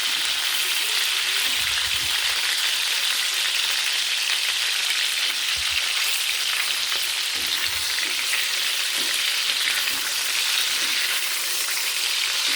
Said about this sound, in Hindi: सिर्फ फ्राई के लिए मैंने ज़्यादा ऑयल डाला है।